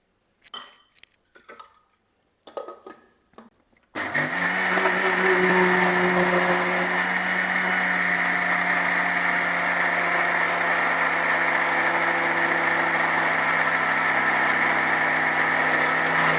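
A kitchen mixer grinder runs steadily, grinding ragi with half a glass of water into a fine batter for ragi halbai. A few soft handling knocks come first, then a loud continuous motor whine and hum carries on alone without a break.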